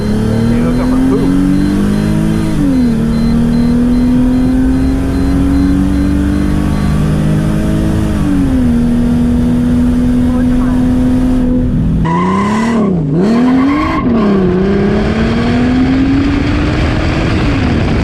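A Mercedes SLK32 AMG revs hard with its wheels spinning and squealing, the engine note rising and dipping over and over, loud and close, with a brief choppy burst near the end.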